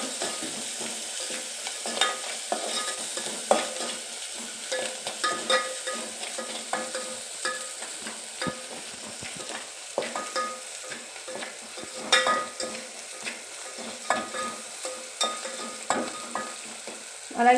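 Ginger garlic paste and onions frying in a pan for bottle gourd curry, a soft steady sizzle broken by repeated scraping and stirring strokes of a spoon, close and moderately loud, with no talking.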